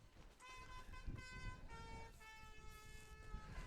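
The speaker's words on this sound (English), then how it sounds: "As you can hear, I think you probably can hear the trumpet being played." Quebec fans at a soccer match play a trumpet in sustained, bright held notes, several phrases in a row over the steady murmur of a crowd, moderately distant.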